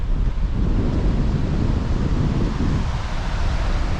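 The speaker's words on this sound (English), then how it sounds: "And look, we're right on the beach." Steady wind buffets the microphone on an open beach while surf washes in underneath, a constant broadband roar with no voices, loud and close throughout.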